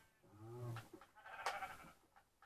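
Sheep bleating in the Minecraft video game, a few wavering nasal bleats in quick succession, fairly quiet and alone.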